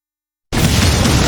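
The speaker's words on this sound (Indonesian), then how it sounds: "Serangan Eris mental dan malah meledak di belakang, bikin para petualang kocar-kacir." After half a second of silence, a loud anime explosion from deflected fire magic erupts and keeps rumbling in a thick, booming roar.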